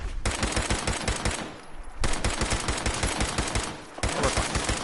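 Rapid automatic gunfire from a weapon in Fallout 4, loud sustained bursts of repeated shots with a brief lull near the middle and another near the end, no talking.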